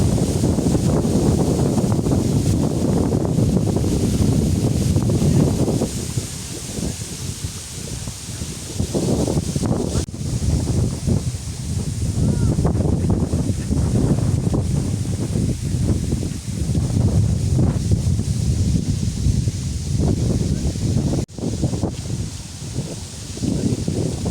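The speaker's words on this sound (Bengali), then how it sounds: "নদীতে ঢেউ খেলতেছে বাতাস" Strong, gusty wind sweeps across a riverbank where the water is choppy with waves in light rain, roaring loudly and steadily and buffeting the microphone with heavy low rumbles throughout, with no talking.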